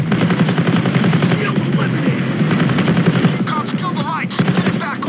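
Sustained automatic gunfire from a gun in the video game Payday 2, loud continuous rattling shots with a brief pause midway and no speech.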